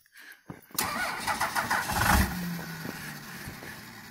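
A 12-valve Cummins diesel cold-starts nearby: a brief cranking burst catches into a loud, rough rumble that settles into an uneven idle.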